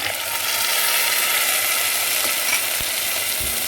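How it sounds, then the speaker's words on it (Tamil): Ground masala sizzling with sautéed garlic in a pan makes a steady, close hiss of frying, with a few faint clicks and knocks of stirring near the end. "பூண்டு நல்லா வதங்கிருச்சு வதங்கிருச்சு இப்போ நம்ம அடித்து வச்ச மசாலாவை சேர்ப்போம்"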